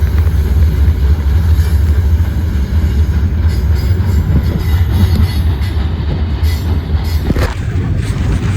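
Steady, loud rumble and rattle from riding aboard the iron ore train in Mauritania, with continuous wheel and wagon noise throughout and a brief squeal near the end.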